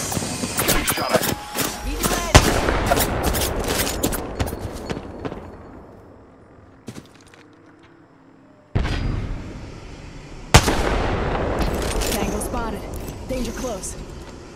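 Bursts of automatic gunfire crack in an Apex Legends match, loud and dense at first, fading to quiet, then returning in sharp volleys with thuds and impacts.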